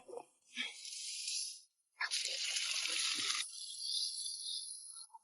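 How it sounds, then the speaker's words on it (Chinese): Cold tap water runs under a faucet while an item is scrubbed by gloved hands, part of cleaning equipment for homemade barley wine in a Tibetan village; bursts of running water and brushing, close and fairly loud, with short pauses. "因为这个水有点凉，所以戴这个手套，然后清洗，这样刷。"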